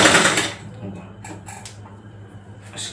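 A sewing machine stitching along the edge of fabric gives a short, loud whirring run at the start, then falls to quiet with scattered light clicks while a voice talks.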